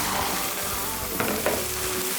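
Beef dropped into a pot of cooked-down vegetables for a Cajun-style beef and vegetable soup, giving a steady loud sizzle with a couple of brief sharp spits and stirring noises, no talk.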